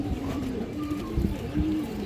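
Fancy pigeons, among them a young silver male, coo in a loft with low, throaty rolling calls that pulse gently and overlap, close and steady with no talking.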